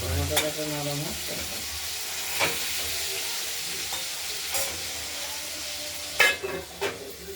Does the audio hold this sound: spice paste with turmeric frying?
yes